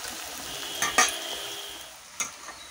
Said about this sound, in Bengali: দেখুন পেঁয়াজটা আমার অর্ধেক ভাজা হয়ে গেছে, আর একটু বাকি আছে। পেঁয়াজটা ভাজা হয়ে যাক।